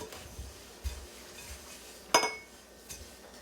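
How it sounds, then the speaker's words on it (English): A spoon clinks and scrapes around a bowl of sugar mixed with pumpkin seeds, soft irregular taps with one sharper ring, close and quiet with no talking. "So we're just gonna stir that up."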